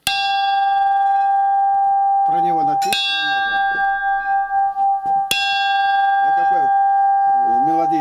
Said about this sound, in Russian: А это колокол.